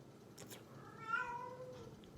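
A female cat in heat lets out one drawn-out, wavering yowl in the middle, moderately loud against a quiet, faintly noisy room.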